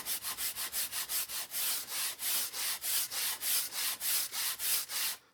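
EVA foam is sanded by hand without a Dremel in about seventeen quick rhythmic strokes, each a close, dry, scratchy rub with short pauses between them, and no talking.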